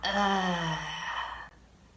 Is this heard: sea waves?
no